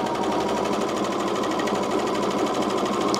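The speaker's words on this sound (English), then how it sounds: "the first step you're going to do is just overlock this bottom edge" Serger overlocking the bottom edge of a camisole, a dense, even mechanical chatter running loud and unbroken throughout.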